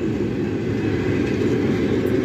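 A Turkistan–Pavlodar express passenger train is running, producing a loud, continuous low rumble with an even mechanical roar and no talking.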